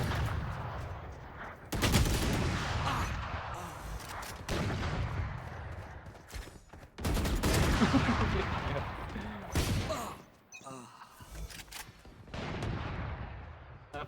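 Rapid bursts of gunfire from the video game Valorant crackle loudly and repeatedly, in dense volleys separated by short gaps, with a player talking over the shooting.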